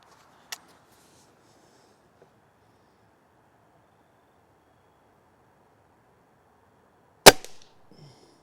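A Barra 1200G dual caliber air rifle fires two sharp shots, one faint and early and one loud and crisp near the end, separated by quiet.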